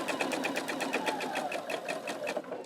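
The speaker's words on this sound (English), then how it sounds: "I'm just going to slow down as I stitch over my tree trunk" A sewing machine stitches a fabric Christmas tree napkin, running at a steady, even pace with a rapid regular clatter of the needle that continues unbroken and close throughout.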